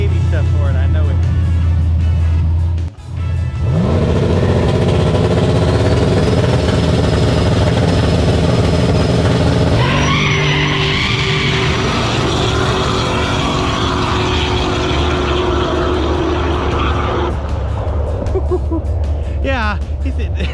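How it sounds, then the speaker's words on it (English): A race truck makes a drag racing pass at Immokalee Raceway on a Friday night, a loud sustained engine roar that shifts pitch and builds through the run, with voices talking over it. "this is Charlie's second pass in his truck"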